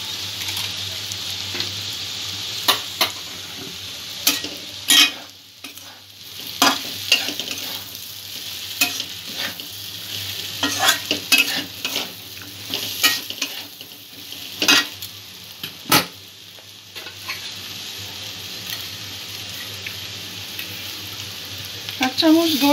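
Chickpeas fry and get stirred in a pan, with a steady sizzle broken by frequent scraping and clinking of a spoon against metal, close and continuous with no talking.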